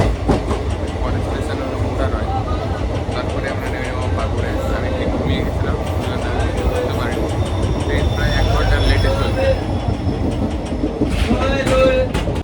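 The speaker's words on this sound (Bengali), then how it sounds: "রামপুরহাট স্টেশন তো আপনারা দেখতে পাচ্ছেন রামপুরহাটে ট্রেন ছেড়ে বেড়াচ্ছে" A passenger train departing Rampurhat station rumbles steadily with rhythmic clacking of wheels on rails, loud and close throughout, with occasional higher squeals.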